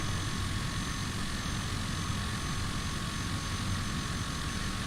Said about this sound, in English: I'll be taking off runway 24, left crosswind departure to the east.